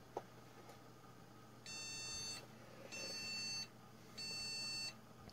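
Three short electronic computer BIOS beeps in an even rhythm, each lasting under a second, clear over a faint low hum.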